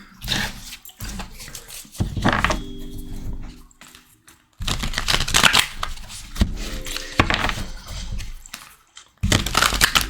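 A deck of tarot cards is shuffled by hand close up, in several bursts of riffling and slapping with short quiet pauses between them and no talk.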